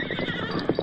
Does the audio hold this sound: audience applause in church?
no